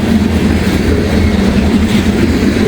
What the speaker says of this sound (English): Old grain train and boring grainers that don't have Teamy on them